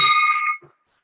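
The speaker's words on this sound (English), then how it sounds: "Oh, a bell ringer there." A single bell rings sharply, a bright metallic tone that decays within about half a second, followed by a faint murmur and then silence at a Rotary club meeting.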